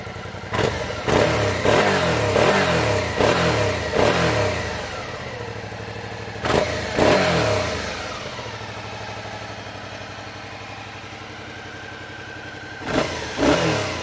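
A 2021 Suzuki V-Strom 650 XT motorcycle engine revs hard several times in quick bursts, settles into a throaty idle, then revs twice more close by.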